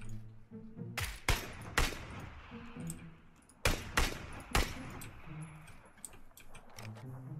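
Gunfire in the video game PUBG rings out as several sharp, sparse shots with pauses between them, over faint background game noise and quiet movement sounds, with no talking.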